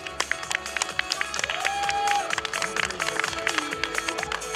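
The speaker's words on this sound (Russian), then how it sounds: "Ну что ж, молодцы, девчонки. Аплодисменты им." Audience applause for the girls at a children's beauty contest in a community culture centre: dense, steady clapping from a crowd fills the whole stretch, with voices and a rising tone cutting through.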